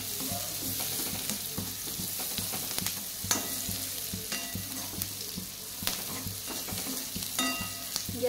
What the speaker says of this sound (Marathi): त्यानंतर आपल्याला त्यामध्ये 1 छोटा चमचा हळद टाकायची आहे आणि हळदीमध्ये कांदा पुन्हा परतून घ्यायचा आहे